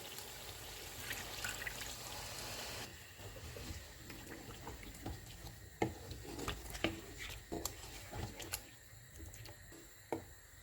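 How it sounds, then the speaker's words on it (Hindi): Water poured from a cup into a pan of chicken korma with fried ground onions, a steady trickle and splash at close range, followed by several sharper ticks and clinks of cookware. "इसमें 1 कप पानी डालेंगे।"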